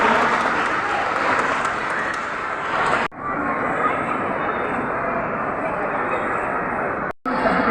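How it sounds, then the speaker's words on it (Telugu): A school graduation audience in a town hall applauds in a thick, continuous roar of hand claps that cuts out abruptly twice before resuming at full strength. "Everyone I request to give a round of applause to the sir."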